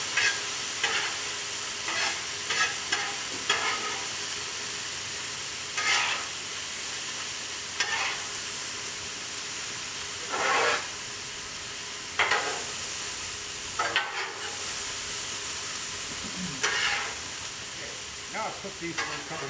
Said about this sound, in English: You just get these veggies cooked up real good.